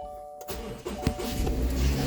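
A car with a CVT transmission cranks and its engine catches after a brief quiet moment, then settles into a steady, close idle with a faint ringing tone over the running engine.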